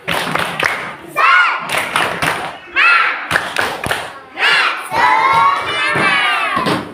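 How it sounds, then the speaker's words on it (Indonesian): A class of schoolchildren performs a rhythmic spirit clapping chant, loud bursts of sharp claps and shouted voices alternating in a steady pattern, close and lively, with a teacher leading. "mari kita tepuk semangat"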